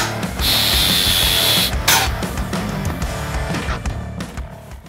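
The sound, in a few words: sanding machine running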